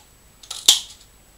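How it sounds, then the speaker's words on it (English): A paper punch cutting a butterfly shape from paper, two quick crisp snaps in close succession, the second one sharper and louder, in an otherwise quiet room. "I'm just gonna cut it with my punch"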